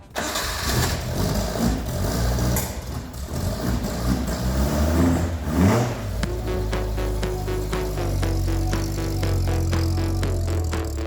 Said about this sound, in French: on va se faire un petit tour en Caterham